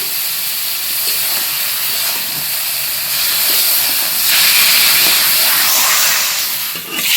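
Loud, sustained hissing rises from a hot pan as boiled taro greens go in for a prawn dish, swelling midway and then easing, with no voices.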